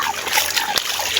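River water in Antipolo, Rizal splashes and trickles close by, a continuous bright rush of churning water with small sloshes throughout.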